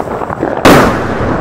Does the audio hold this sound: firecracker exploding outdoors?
yes